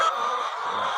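Laying hens on a farm in N'douci, a soft continuous murmur of clucking fowl, brief and fairly faint with no distinct individual calls standing out.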